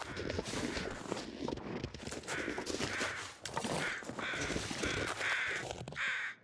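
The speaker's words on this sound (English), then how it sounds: "Are those mobile crows?" Crows caw repeatedly in the survival video game The Long Dark, several harsh calls spaced across a few seconds over steady crunching footsteps on snow, fairly loud and with no talking.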